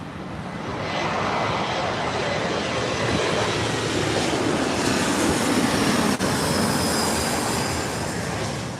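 Condor Airlines jet airliner at Los Angeles International Airport, a broad roaring rumble that swells in and holds steady as the plane passes fairly close, with a faint whining tone above the roar.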